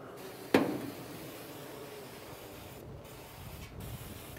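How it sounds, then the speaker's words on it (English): Organic avocado oil cooking spray hits a rotisserie basket for grilling wings on a Lynx Professional gas grill: one sharp, close hiss of spray that fades quickly, followed by quiet handling noises. "we're just going to give it a quick spray"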